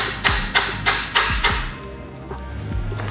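A shifter pin is tapped into place in a Mazda RX7 with a series of sharp metallic taps, five fairly even strikes followed by a few fainter ones, close and clear with no talking.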